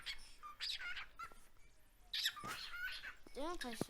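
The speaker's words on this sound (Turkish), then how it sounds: "Kuş sesiyle video çekti." A pet bird gives short chirps and warbling whistles in a bright room, with quick rising and falling notes scattered over about four seconds, while someone talks between the calls.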